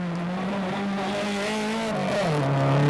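A rally car at the Ashley Forest Rallysprint drives hard along a forest stage, its engine holding a loud sustained note that dips with a gear change and then climbs again, close and alone without talk.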